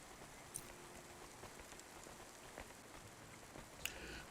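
Steady rain patters down in the Cloudpunk video game outside a restaurant, a soft continuous hiss with occasional louder drips, no voices.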